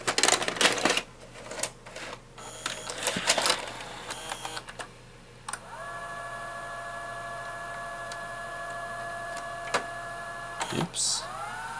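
A restored 1998 Zenith Allegro VCR loads a blank tape with clicks and clunks, then its mechanism hums and whines steadily, ending with a final mechanical clunk.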